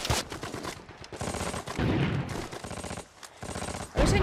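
Sustained machine gun fire in a World War II battle scene from a TV drama series, dense rapid bursts with explosions and battle noise, loud and continuous.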